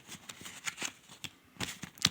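Beyond the Moon oracle cards are shuffled in quick riffles and light slaps, a short crisp flurry of paper snaps close by.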